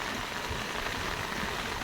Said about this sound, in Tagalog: pagka ganito umuulan, ganyang kataas ang tubig